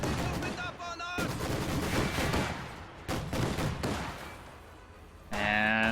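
Enemy gunfire opening up in the Steel Division 2 war game, dense bursts of rifle and machine-gun fire crackling continuously for several seconds, with brief gaps and a tonal game alert at the end.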